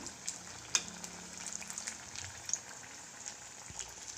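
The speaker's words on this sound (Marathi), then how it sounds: "आपल्याला ही भजी ब्राऊन कलर तळून घ्यायची आहे" Banana bhajji frying in hot oil: a soft, steady sizzle with faint crackles and small pops, quiet and close, with no talking.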